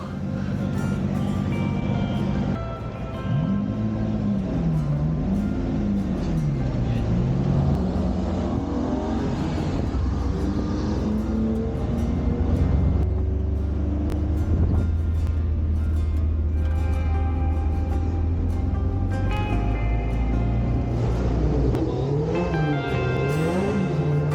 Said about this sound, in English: It is a 1966 Alfa Romeo.